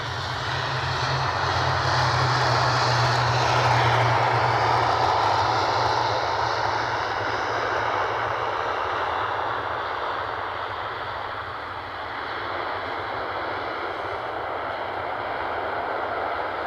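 Propeller aircraft engine at Edinburgh Airport, a loud, steady droning hum with a low throbbing tone that swells early and then holds at a constant level, heard alone without talk.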